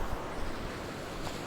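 Storm surf ahead of a hurricane, waves surging up the beach toward the dunes, a continuous loud roar of breaking water mixed with wind buffeting the microphone, with no talking.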